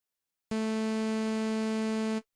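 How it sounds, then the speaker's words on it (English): A steady sawtooth wave from an analog oscillator buzzes for nearly two seconds, a bright, harmonically rich drone that starts and stops cleanly against silence. "That's a sawtooth wave."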